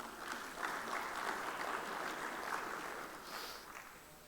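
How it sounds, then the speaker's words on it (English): An audience at an Indian Union Budget 2025 talk applauds the speaker, a dense, even roar of many hands clapping that holds steady and tapers slightly near the end, with no voices over it. "Give him a big round of applause"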